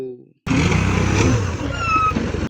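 After a brief silent gap, a loader tractor's heavy diesel engine starts running loudly and steadily, a close, throbbing low rumble with a rising whine.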